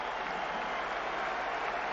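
A boxing arena crowd in Sheffield is on its feet after a title fight, producing a steady, broadband roar of cheering and applause that stays even and unbroken through the short moment.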